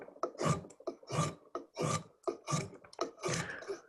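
A drawknife scooping shavings from a wooden spoon blank in bursts of rasping cuts, about seven close strokes in a steady rhythm with short pauses between them.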